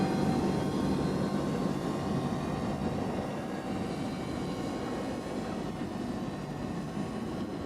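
DJI Mavic Air drone flying straight outdoors, a continuous broad whirring hum with faint tonal buzz, steady and fairly loud throughout with no talk.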